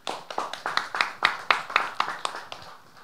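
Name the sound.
audience applause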